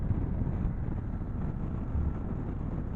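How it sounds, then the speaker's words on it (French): Wind buffets a rider on a 2024 BMW F900 GS motorcycle, a constant low roaring rush of air noise at high level with no let-up, no voices over it. "le vent tape là quoi"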